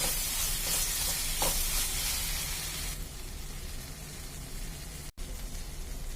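Chilli and coriander powder roasting in a pan for a squid gravy, a dense close hiss of frying that is louder at first and then settles into a quieter, steady sizzle with no talk.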